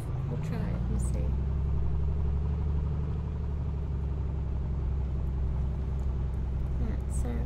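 Piper Comanche 250 piston engine in Microsoft Flight Simulator on its takeoff roll near Tenzing-Hillary airport at the base of Mt Everest: a steady droning engine hum with a faint rise in pitch, a voice talking over it.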